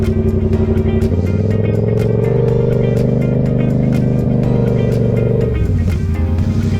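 A motorcycle with a loud aftermarket exhaust idles and revs up close, a deep throaty rumble that rises, holds, then drops back with popping.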